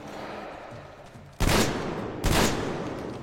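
Two loud, close gunshots from a video game weapon boom about a second apart, each followed by a rumbling decay, over low background noise.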